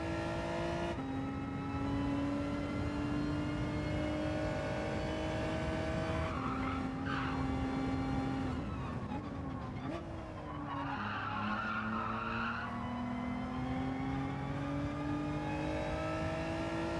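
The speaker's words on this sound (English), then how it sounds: "Don't want to hear those tyres squealing." Tyres squeal and skid in a Gran Turismo 7 online lobby race, long sustained tonal squeals rising and falling over a steady loud engine drone for the whole stretch, no talking.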